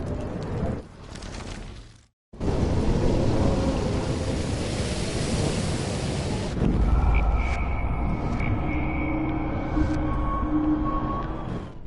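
Stormy weather in the video game Life is Strange Remastered, a loud continuous roar of wind and rain with rumbling low thunder, briefly cutting out before surging back and holding steady while fainter tonal game sounds ring over it.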